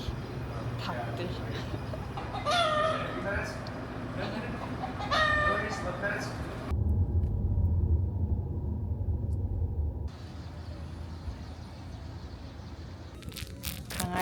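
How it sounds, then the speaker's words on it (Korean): Chickens cluck in short, fairly close bursts over a low outdoor rumble that suggests passing traffic. "닭들"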